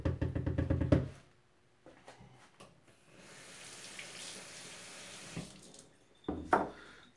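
Tap water runs into a sink for about two seconds while ramen noodle dough is being made in a home kitchen. A low, steady trickle follows, with a few knocks and clatters of handling before and after. No one speaks.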